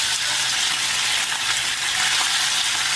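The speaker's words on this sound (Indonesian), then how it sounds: "Jadi kita akan goreng terlebih dahulu ayam yang sudah kita marinasi." Marinated chicken breast sizzles and fries in hot oil in a wok, a steady dense crackling hiss that holds loud and close for the whole stretch.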